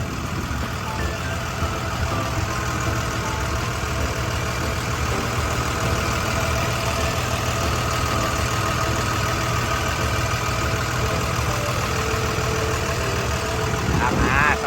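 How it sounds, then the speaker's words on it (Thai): A Hitachi ZW180-5B wheel loader's six-cylinder turbo diesel engine idles close by, a constant low rumble with a faint mechanical whine, running without change throughout. "เดี๋ยวมาเปิดเครื่องยนต์ดูกันนะครับ"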